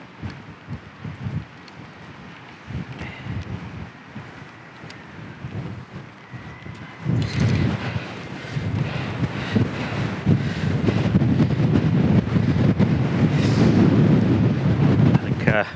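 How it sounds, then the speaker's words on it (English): Strong wind at Ramsgate Harbour, Kent, buffets the microphone with low rumbling gusts that grow heavier and more constant midway through. "As you can see, it's really windy."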